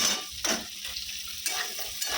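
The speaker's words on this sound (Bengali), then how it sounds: "ওই তেলের মধ্যে আমি ফুলকপিটা দিয়ে দিচ্ছি" Cauliflower pieces go into hot oil left from frying potatoes, giving a close, bright sizzle that flares in bursts as they are stirred, with faint utensil scrapes and no talking.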